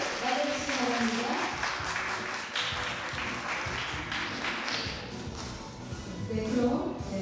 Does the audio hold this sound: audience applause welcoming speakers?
yes